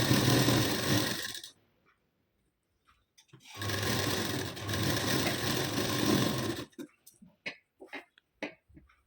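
An electric sewing machine stitches blouse lining in two long, steady whirring runs of rapid mechanical clatter, separated by a pause, then followed by scattered clicks and handling taps as the fabric is adjusted.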